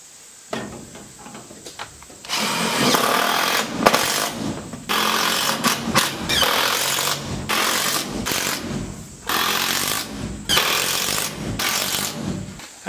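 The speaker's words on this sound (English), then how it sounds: "So we're going to go ahead and finish nailing this out." A nail gun drives nails into metal roof sheets on a tractor shed, with loud sustained bursts of rapid banging and rattling metal. Several long runs are separated by short pauses, close by, with no talking.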